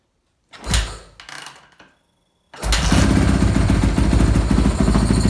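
A motorcycle in a closed garage on a cold day cranks with a couple of short bursts, falls quiet, then catches and settles into a loud, steady idle that runs to the end.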